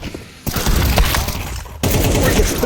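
Rapid bursts of rifle fire, including an AK, crack through a Counter-Strike match, loud and dense, with a sharp cut partway through and heavy sustained shooting on either side.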